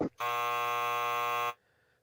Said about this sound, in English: James, your buzzer.